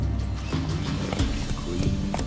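Roach the horse gallops in The Witcher 3, steady clip-clop hoofbeats in a quick rolling rhythm, close and fairly loud over a continuous low rumble of ambient game sound.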